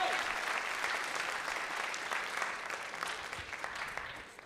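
Steady audience applause at a school charity week kickoff, a dense wash of many hands clapping together, holding at an even level throughout with no voices on top.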